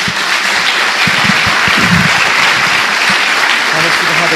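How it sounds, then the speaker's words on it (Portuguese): Church congregation applauding during a sermon, a dense, steady wash of clapping from a large crowd that fills the whole stretch, with a few voices mixed in beneath it. "É uma salva de palmas a Jesus."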